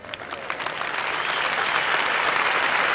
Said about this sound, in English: I appreciate your clapping.